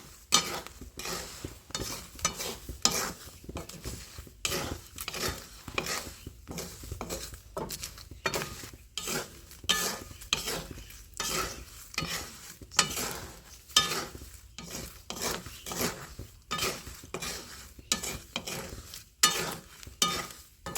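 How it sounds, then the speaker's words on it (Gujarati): Flattened rice (poha) being stirred and roasted in salt in a pan, a soft rhythmic scraping and rustling that repeats every half second or so, quiet and close, with a faint sizzle underneath. "આવી રીતના આમ પૌવા હલાવીને શેકાઈ જાય એટલે આપણે કાઢી લેવાના"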